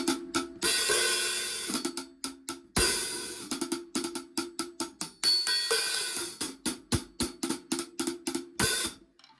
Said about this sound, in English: This is the sound of the hats too.